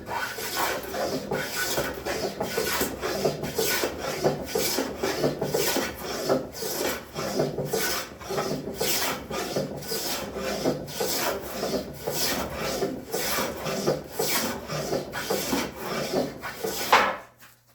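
A hand plane is pushed across a walnut board in steady, repeated rasping strokes, about one per second, loud and close with no talking, ending in a final scrape.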